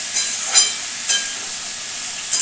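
Pointed gourd (potol) frying on a stove: a steady high hiss of sizzling oil, broken by a few brief louder crackling bursts, with no one talking.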